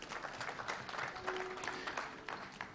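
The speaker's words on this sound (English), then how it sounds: "let's give a very huge round of applause to Mrisho Mpoto" An audience applauds steadily for performer Mrisho Mpoto at a live ministerial meeting with pharmaceutical industry stakeholders and investors. The dense, continuous clapping fills the whole moment, with no speech over it.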